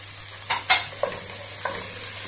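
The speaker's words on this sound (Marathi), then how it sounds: "शेंगदाणे मस्त असे परतून घेऊया" Boiled peanuts stir-fried in a pan for kande poha, with a few short, close scraping stirs over a faint steady sizzle.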